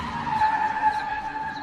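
A car skids hard as its steering wheel is wrenched all the way round, giving a loud, sustained tire squeal that holds steady for nearly two seconds, alone without talk.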